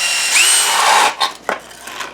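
A power drill fitted with a stepper bit bores a hole during a GMT800 truck hydro boost swap. A close, high whine holds for about a second, then breaks into a few short bursts of drilling.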